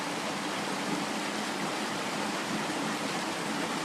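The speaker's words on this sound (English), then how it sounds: "The mighty roaring rapids." Steady, dense roar of rushing rapids on the Manistee River, a constant broadband wash of water with no pauses and no voices.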